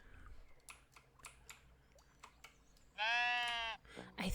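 A sheep in the Tiny Glade video game gives one loud, clear bleat late on, after a stretch of quiet ambient game sound with small taps and clicks.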